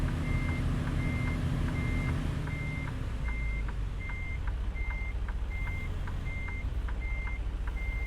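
A big rig backing up in American Truck Simulator gives a steady run of evenly spaced reversing beeps, about a dozen, over a low diesel engine idle drone, with no talking.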